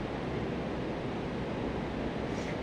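Rushing river water flows steadily outdoors, a continuous broadband roar like surf heard close and loud, unbroken and without voices, with some wind noise mixed in.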